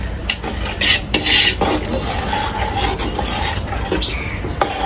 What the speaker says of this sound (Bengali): এখন ভালোভাবে নাড়িয়ে নেব